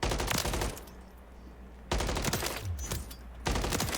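Assault rifle fire in Call of Duty Warzone, loud close bursts of rapid automatic shots in three sprays separated by brief pauses.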